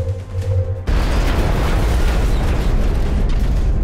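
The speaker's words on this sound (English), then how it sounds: "Go shredder rocket." A shredder rocket in XCOM: Enemy Unknown detonates after a short quiet lead-in, giving one loud, sudden blast that stays as a dense roaring wash of debris and rumble to the end.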